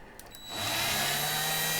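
After a brief click, a power drill whirs up and runs steadily at a loud, high-pitched whine.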